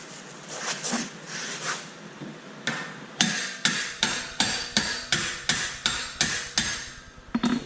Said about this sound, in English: I put the nut back on it, then I strike it with a hammer